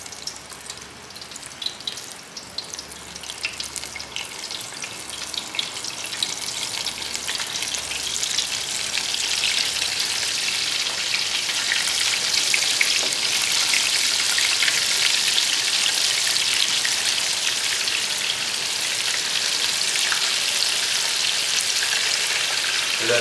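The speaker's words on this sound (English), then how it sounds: "Hear that sizzle?" Chicken strips deep-frying in 375-degree oil give a steady crackling sizzle that grows louder and denser after the first few seconds, then holds as a continuous close hiss.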